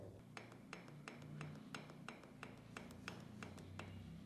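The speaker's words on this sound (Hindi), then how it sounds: "तो अब ये जो आवाज़ है ना यार, ये तब आती है जब आपका जो पिस्टन है उसका डायामीटर सिलेंडर से छोटा हो" A worn piston in a 2008 Karizma R motorcycle engine, its bore too large for the piston, knocks in a steady metallic tapping rhythm of sharp ticks about three per second, close and clear over a low mechanical hum.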